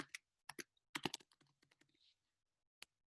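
Keys click on a computer keyboard as a password is typed in short, uneven bursts of light taps, close and quiet, with brief gaps between the strokes.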